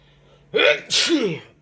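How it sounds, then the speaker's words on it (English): A single loud sneeze, a sharp intake followed by an explosive burst, close up with nothing else around it. "Excuse me for a second. I got to sneeze."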